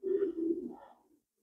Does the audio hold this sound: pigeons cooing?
yes